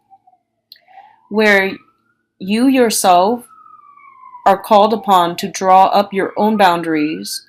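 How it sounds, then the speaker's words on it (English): A siren passes outside, a long faint rising and falling tone that runs under a woman's steady speech through the middle of the stretch. "excuse the siren."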